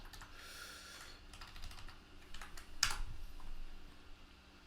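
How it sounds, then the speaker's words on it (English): Keys clatter on a computer keyboard as a search is typed, a short run of quick, fairly faint clicks ending with a sharper tap, with no talk. "Let's type in locksmith."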